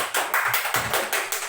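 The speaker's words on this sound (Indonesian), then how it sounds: "Tepuk tangan" A short burst of applause in a small indoor gathering, a handful of people clapping in quick, close, uneven claps for about a second and a half.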